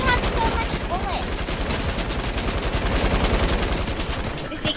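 Rapid automatic gunfire from a Fortnite match rattles on without pause, loud and dense, with a brief tonal in-game sound near the start and no talk over it.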